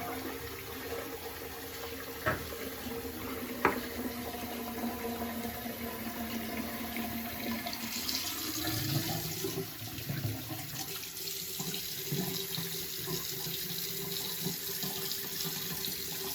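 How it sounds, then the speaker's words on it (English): A hot water tap runs steadily into a bathroom sink during a straight razor shave, a continuous close splashing hiss lasting throughout, with a few faint clinks early on and the flow shifting in tone partway through. "Let's get a little more hot water in here."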